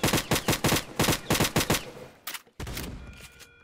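Rapid bursts of gunfire in a Roblox shooting competition, a string of loud close volleys in quick succession that then break off into scattered shots and game noise.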